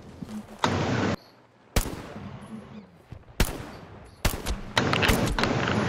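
Gunfire in the World War II shooter Hell Let Loose, with sharp, loud bursts and single cracks of automatic fire. Several distinct volleys are separated by brief quieter gaps, each ending in an echoing tail.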